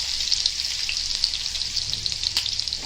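Garlic frying in oil in a pan, a steady, fine, bright sizzle with small crackling pops throughout, close and moderately loud.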